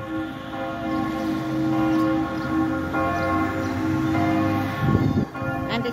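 Church bells ringing in the municipality of Kirchberg: sustained, loud, overlapping bell tones with long ringing overtones, heard steadily over six seconds with faint background noise.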